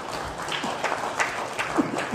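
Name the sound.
applause for newly sworn-in board officers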